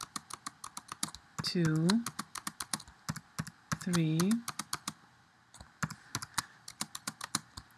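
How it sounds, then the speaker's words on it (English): Rapid typing on a computer keyboard, crisp close key clicks in quick irregular bursts, with a voice speaking briefly over the keystrokes twice. "And now I can start typing"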